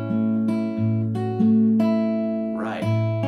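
A short fingerpicked acoustic guitar phrase in F, plucked notes ringing into one another, with a brief pitch-bending flourish near the end.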